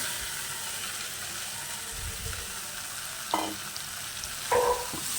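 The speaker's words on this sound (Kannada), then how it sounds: "ಇದಕ್ಕೆ ಹುರಿದಿಟ್ಕೊಂಡಿರೋ ಬೆಂಡೆಕಾಯಿ ಹಾಕೋಣ." Fried okra goes into a pan of cooked tomato masala for bende kayi gojju, giving a steady, soft sizzle close by, with two brief scraping clinks as it is stirred near the end.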